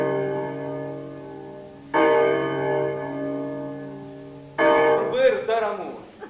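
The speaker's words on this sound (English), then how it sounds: "The beginning will be announced by the chimes of the bell." Bell chimes announcing the start of an Elizaveta Bam performance: two sudden loud tonal strikes, each ringing with sustained harmonics and slowly decaying, the second followed by fluttering overtones.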